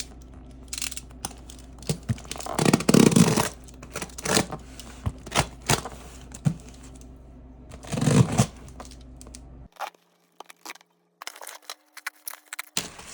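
Parcel unboxing: bubble wrap packaging being torn and handled, with bursts of crinkling and tearing around two busier moments, close and fairly quiet, no talking.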